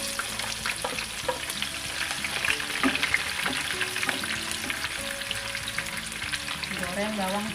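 Thinly sliced onions fry in cooking oil in a pan while fish floss is being made. A continuous crackling sizzle runs throughout, broken by scrapes and clinks as the onions are stirred.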